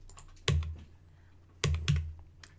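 Short bursts of keystrokes on a computer keyboard while typing commands into a terminal: a quick pair of clicks, a pause, then a few more close, crisp presses.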